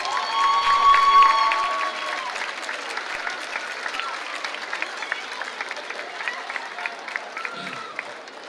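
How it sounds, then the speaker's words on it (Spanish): Audience applause at a school dance festival at Colegio Armenio Jrimian fills the hall, a loud burst of clapping at first that settles into steady, sustained applause with a faint whistle early on. "Un aplauso acá para el Fans Club de las Exalumnas."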